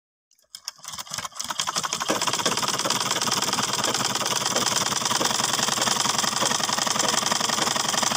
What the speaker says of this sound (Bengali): সুতা লাগিয়ে এখন আমরা সেলাই করে দেখব